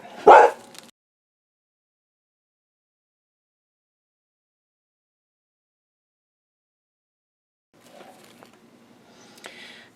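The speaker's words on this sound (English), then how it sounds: "sorry about the dog barking." A single sharp dog bark sounds at the start, then silence, followed later by faint whimpering or yipping.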